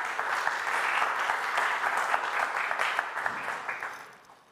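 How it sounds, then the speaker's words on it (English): Audience applause for community members at a tech conference talk, a dense sustained wash of many hands clapping that holds steady for several seconds before thinning and fading out at the end. "So I will ask for a big round of applause to these community members and these people making it happen"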